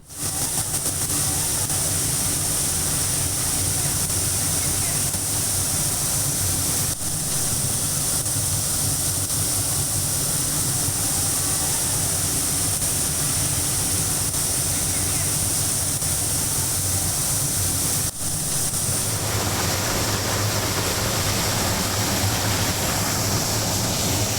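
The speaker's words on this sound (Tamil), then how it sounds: "மதுரை அனுப்பானாடி பகுதியில் குடிநீர் குழாய் உடைந்து பல ஆயிரம் லிட்டர் தண்ணீர் சாலையில் வீணாக சென்று கொண்டிருக்கிறது." Water gushes from a burst main drinking-water pipe in Madurai, pouring onto the road in a loud, continuous roaring rush like a waterfall, with steady intensity and a slight shift in tone near the end.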